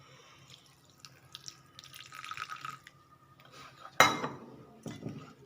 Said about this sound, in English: For that, I will add now